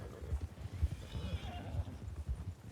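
A horse in an online role-play video game neighs amid steady clip-clop hoofbeats, rhythmic thuds running throughout with a faint whinny in the middle.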